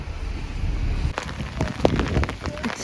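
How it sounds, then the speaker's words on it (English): Continuous monsoon rain falls on a hillside road near Chikmagalur, a steady wash of close patter with scattered louder drops and no speech. "It's raining continuously."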